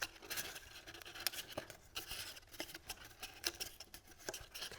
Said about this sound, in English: we're going to take these tabs at the bottom and just fold them over